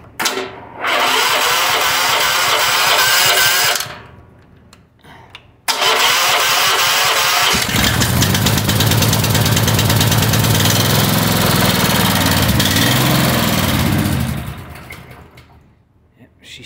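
Small gasoline engine, fed a gas and diesel mix, cranks and catches, then runs loud and rough with an uneven, sputtering idle before dying away, with a brief voice near the start.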